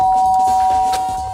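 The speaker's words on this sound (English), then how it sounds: "I press the doorbell," An electronic doorbell chime in the video game Danganronpa: Trigger Happy Havoc rings out as a steady, sustained tone with a faint background hum, loud and close.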